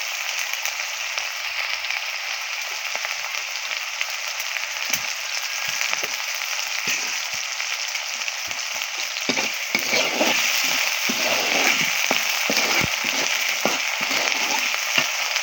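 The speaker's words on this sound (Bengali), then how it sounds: "আমি একটু ভেজে নিচ্ছি সামান্য লবণ দিয়ে দেবো" Stinging catfish (shing fish) fry in oil in a pan with a little salt, giving a steady, loud broadband sizzle throughout, with scattered crackles and pops that thicken in the second half.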